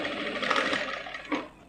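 A sewing machine stitching a straight seam on a blouse, running steadily at close range with a brief louder knock near the end.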